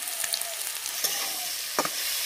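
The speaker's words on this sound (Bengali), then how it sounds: "নুন হলুদ দিয়ে ভালো করে নাড়াচাড়া করে ভেজে নিচ্ছি আলুটাকে" Potato pieces with salt and turmeric fry in hot oil with a steady close sizzle, broken by a few scraping stirs of a spatula in the pan.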